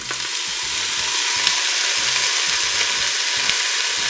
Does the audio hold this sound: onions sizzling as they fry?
yes